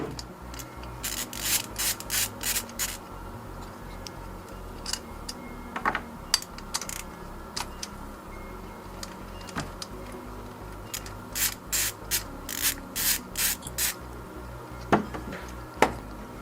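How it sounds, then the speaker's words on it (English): Ratcheting wrench work on fuel rail bolts of a Kia Forte engine, with repeated short clicking bursts in clusters separated by pauses, close and clear with no talk. "we have to remove the two bolts here holding the fuel rail"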